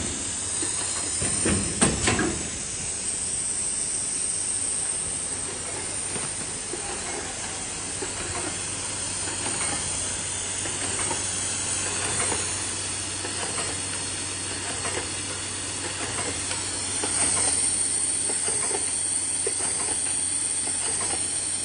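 A carton lid packing machine runs steadily, producing a continuous mechanical hiss and hum with faint rhythmic clicking and a sharper clatter near the start, with no talking.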